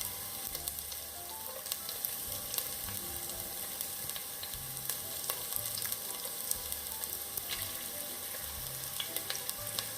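Garlic and chopped green chili sizzle steadily in a hot pan, a continuous close frying hiss with faint crackles and no voices throughout.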